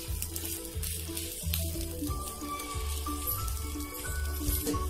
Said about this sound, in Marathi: आपण आता हे पुन्हा थोडस आमट बटर लावायचंय. आणि गरम करून घ्यायचंय.